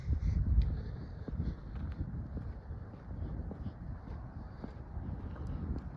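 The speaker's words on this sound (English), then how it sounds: "It's a little bit windy," Wind outdoors during a walk through a quiet residential neighbourhood in Edmonton, a faint low rumble buffeting the microphone with an occasional stronger gust and a few soft scattered sounds.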